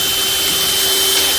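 A power drill boring pilot holes into a hardwood merbau decking board before stainless steel screws go in, heard as a loud, steady, close whine with no pauses.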